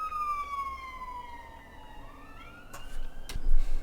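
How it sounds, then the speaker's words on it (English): Ambulance siren wailing outside, a single long falling tone then rising again, heard moderately distant through background noise, with a few brief thumps near the end. "if the ambulance outside will stop making a noise"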